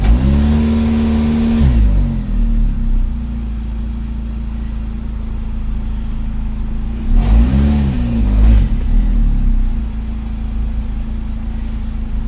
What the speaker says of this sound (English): I'm going to put my foot on the brake and put it at open throttle